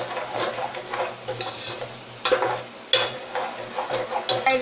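Finely chopped onion sizzles steadily in hot oil in a pan, browning toward golden, with a few clinks and scrapes of stirring breaking through the continuous frying noise.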